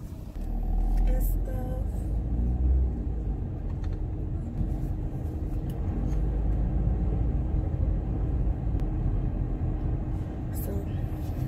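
Car driving heard from inside the cabin on a trip to a Dollar Tree, a steady low road rumble and engine drone with occasional faint clicks and knocks throughout.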